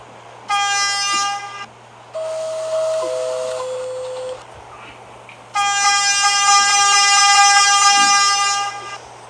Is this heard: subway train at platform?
yes